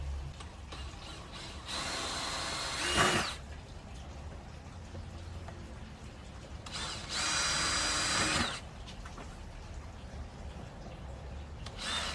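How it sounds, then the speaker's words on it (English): A power drill bores pilot holes in a Sprinter van's body for fitting a bunk window, in two loud, whining bursts of a second or two each, separated by quieter shop ambience, with no talk. "now that I drill all the pilot holes, we are ready to go install"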